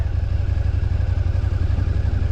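A motorcycle runs steadily at low-to-mid revs during a test ride on a bike with adjusted front tyre pressure, its even engine pulse throbbing close and loud with no talk.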